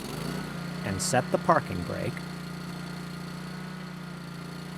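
A commercial walk-behind mower engine runs at a steady, low idle hum throughout, while a narrator speaks briefly over it before the engine continues alone.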